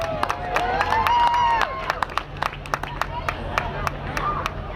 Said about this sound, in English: Again, round of applause for Maddie and Andrew.